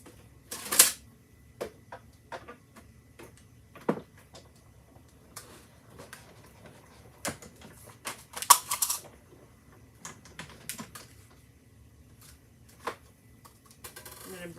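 A mini die-cutting machine cuts out paper with a die, giving a series of sparse clicks and ticks at a quiet level. The clicks come at irregular intervals, with a few louder snaps and short busier bursts along the way.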